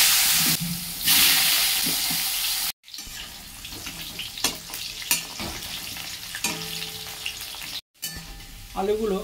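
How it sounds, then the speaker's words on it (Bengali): Potatoes frying in oil left over from frying small fish, an intermittent sizzle with clattering stirring, brief breaks, and some watery splashing, close by. "ওই তেলে কিছু আলু ভেজে নেব।"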